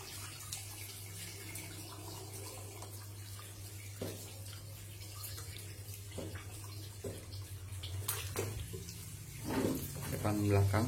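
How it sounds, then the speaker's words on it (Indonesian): Running hose water rinses a screen-printing screen with a steady splashing wash, while a person talks faintly underneath and the spray grows louder near the end. "Selanjutnya kita siram kembali dengan selang air mengalir."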